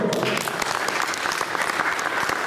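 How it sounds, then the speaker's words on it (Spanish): Sustained audience applause from a seated crowd at a university technical conference in Montevideo, dense steady clapping that fills the whole stretch at an even level. "les pido un fuerte aplauso"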